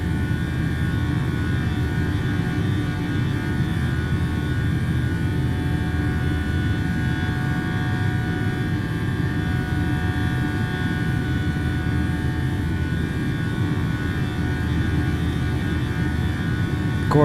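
A PMDG 737-800 jet in Microsoft Flight Simulator departs with a steady, loud engine roar and a constant tonal whine, unbroken throughout with no talk.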